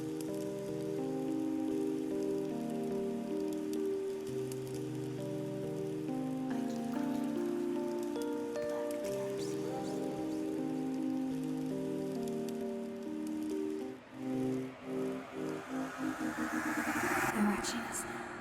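Beat intro made in FL Studio with the free Mtremolo plugin automating its rate, a sustained pulsing harmonic bed with rain-like texture that thins and wobbles near the end before a bright swell.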